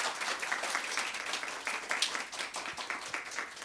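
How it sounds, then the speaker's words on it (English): Applause from a conference audience for the panelists at the close of a roundtable discussion, a steady, moderately distant patter of many hands clapping with no pause. "a big round of applause"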